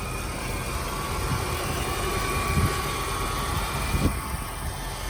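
A 2003 Mercedes SL500 with a five-liter V8 and 45k miles idles smoothly, a steady low even rumble heard close up with a couple of faint soft knocks.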